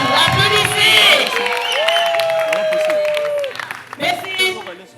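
Guests at a civil wedding ceremony clapping and cheering, with loud whoops and mixed voices over the applause, a brief lull, then another burst of cheering.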